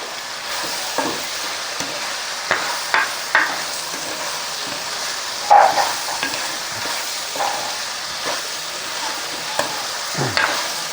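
Country-style chicken curry with curry leaves sautéing in a pan, a continuous sizzle and fry broken by scattered clinks and scrapes of a spoon stirring against the pan.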